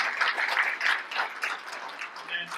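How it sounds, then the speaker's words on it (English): Audience applause at a leadership symposium keynote, a light, uneven patter of clapping from a modest crowd that rises and dips over a couple of seconds. "Give yourself a round of applause."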